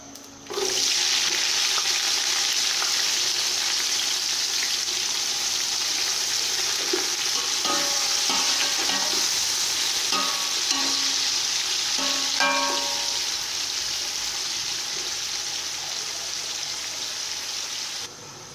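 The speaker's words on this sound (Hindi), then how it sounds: "अब हम इसमें प्याज डालेंगे और उन्हें गोल्डन ब्राउन होने तक फ्राई करेंगे।" Steady, dense sizzling of onions frying in hot oil, continuous and fairly close, with occasional light clinks and stirring scrapes; no voices.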